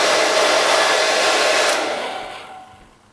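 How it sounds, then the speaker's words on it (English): A hairdryer blowing close by, a loud, steady rushing whoosh with a faint motor whine that holds for a second and a half, then winds down and fades away. "as demonstrated with a hairdryer."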